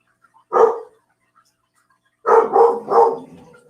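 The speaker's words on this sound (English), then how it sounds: "I'm sorry about the barking." A dog barks close by: one sharp bark, a pause of silence, then three quick barks in a row, loud and alone.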